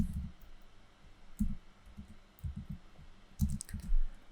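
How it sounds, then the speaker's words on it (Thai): Computer keyboard keys tapped while entering text in Photoshop, scattered bursts of dull, close clicks with short pauses between groups, no talking. "แล้วจะพิมพ์คำว่า ไททูน"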